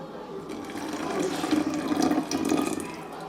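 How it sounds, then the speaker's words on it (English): A quarter cup of water is poured into a bottle holding plaster of Paris, making a continuous close gurgling pour that swells slightly for a few seconds, with no talking. "a 1/4 cup of water I'm going to pour in"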